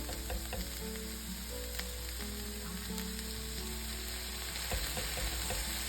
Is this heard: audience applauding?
no